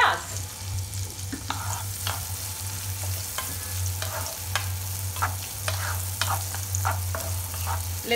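Chopped onion frying in melted butter for dhaba-style egg bhurji, a steady close sizzle with a low burner hum underneath and repeated spatula scrapes and stirs against the pan.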